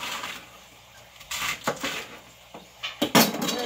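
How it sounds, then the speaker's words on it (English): A knife slicing romaine lettuce leaves on a cutting board in a home kitchen, giving a few crisp, brief crunching strokes spaced out, with a quick double cut near the end. "I just take my leaves, run my knife gently through"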